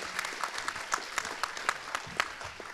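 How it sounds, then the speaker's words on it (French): Scattered audience applause at a web startup contest in Lorient, individual claps standing out in an uneven, moderately sized clatter, with rhythmic bursts that suggest a few people clapping in loose time. "On peut les applaudir, Louise et Julien de Penarbox."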